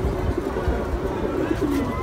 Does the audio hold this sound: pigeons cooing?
yes